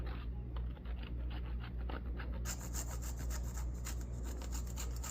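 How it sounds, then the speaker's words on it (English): Chocolate is grated over a tiramisu, producing a close, rhythmic rasping of short repeated strokes against a steady low hum of background noise. "With our chocolate, grating that on top."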